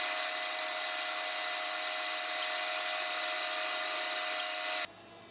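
A bandsaw cuts through a wooden piece clamped on a miter sled, a steady loud blade hum and rasp running several seconds before stopping abruptly.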